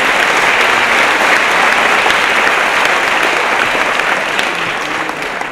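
An audience at a talk breaks into loud, sustained applause, a dense wash of many hands clapping that holds steady for about five seconds before easing slightly at the end.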